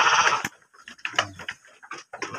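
Young Garut lambs bleat in a livestock pen, giving a string of short, close bleats separated by brief pauses, with no talking.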